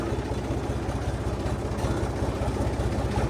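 A small Mahindra tractor engine idling after being started: a steady low diesel chug with a fast even pulsing rhythm, close and fairly loud, no talking.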